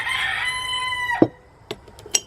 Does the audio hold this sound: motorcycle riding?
no